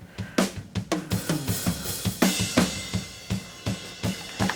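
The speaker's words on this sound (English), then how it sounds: "So this is what the overheads sound like." Drums picked up by overhead microphones in a church live mix: a steady groove of kick and snare hits with washing cymbals, loud and close, repeating evenly with no voices.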